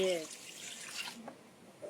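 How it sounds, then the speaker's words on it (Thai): Rinse water poured out of a container while washing, a short splashing pour into a sink that tapers to trickles and drips, with a voice briefly heard at the start. "เทน้ำทิ้ง เทไปเลย เทน้ำทิ้งอย่างนี้นะ"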